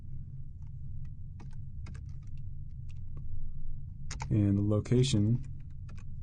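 Scattered light keystrokes tap on a computer keyboard, soft isolated clicks spread over a low room hum, close and quiet, before someone speaks briefly near the end.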